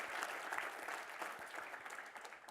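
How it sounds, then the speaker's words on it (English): An audience applauding, a dense wash of clapping from many hands, fairly faint and steady throughout. "So big round of applause for yourself."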